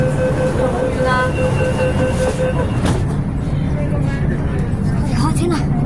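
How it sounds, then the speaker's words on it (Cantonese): A Shenzhen Metro Line 4 train gives a loud, steady rumble with a sustained motor whine that shifts partway through, and voices talk over it. "呢個係深圳地鐵4號線列車"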